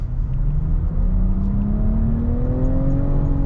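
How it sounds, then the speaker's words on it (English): A lifted 2022 Nissan Rogue accelerates at full throttle, its engine note climbing steadily in pitch as it revs, heard from inside with a steady road rumble underneath and no talking. "let's see how this thing scoots full throttle"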